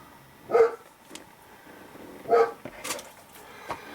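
A dog barks twice from somewhere in a room, loud short woofs roughly two seconds apart, with a few softer yips and quieter trailing sounds in between.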